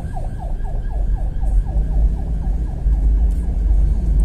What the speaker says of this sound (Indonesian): Nah ini lagi-lagi ada ambulan.